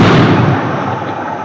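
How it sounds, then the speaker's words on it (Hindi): Firecrackers set off near a local cricket league grand final give a loud, dense burst of crackling blasts and rumble that tapers off slightly, with no talking. "अब कोई पटाखे जरूर फोड़ रहे हैं"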